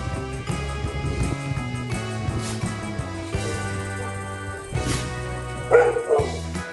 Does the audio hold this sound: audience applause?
no